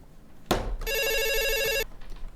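A phone ringtone plays for about a second, a bright steady electronic tone following a sharp click, close and clear with no talking over it.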